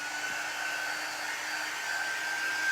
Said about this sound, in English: I'm using my Magnolia heat gun.